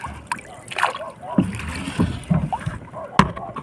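Paddle strokes splash and slosh in water close by, with occasional knocks against a small wooden boat (bangka) out squid fishing, while a person speaks over the sounds.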